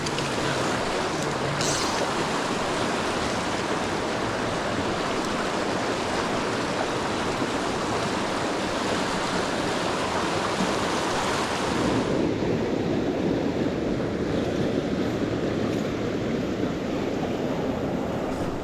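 Water rushes steadily through a deep, hard-to-wade river in a back-country Idaho canyon, making a loud, unbroken broadband roar that shifts slightly in tone partway through.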